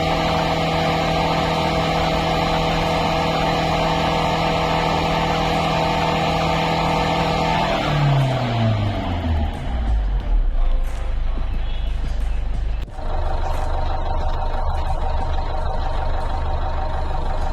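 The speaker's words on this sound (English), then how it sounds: "Now I am revving the accelerator to the maximum RPM, and this is the inside cabin noise." Cabin interior of a 2012 Ford Classic with the engine revved high and held: a steady loud drone with strong harmonics, then the revs drop away and a low rumble continues.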